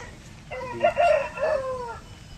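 A rooster at a village poultry market (haat) crows once, loud and close, a single drawn-out call with a rising start and falling tail over faint background murmur.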